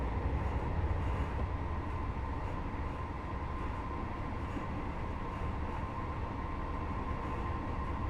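A Class 158 diesel train in Train Sim 2020 runs toward Bristol Temple Meads with a steady, low rumbling drone and faint rail noise, continuous and even throughout.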